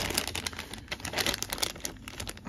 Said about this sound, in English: You can just kind of lift these staples and kind of pop it open